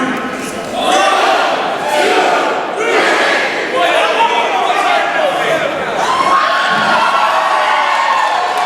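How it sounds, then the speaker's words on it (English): An excited convention crowd at a Power Rangers panel shouts loudly together in a sustained roar of many voices, with rhythmic swells as the shouting rises and falls. "Can we get a countdown from the crowd or on 3?"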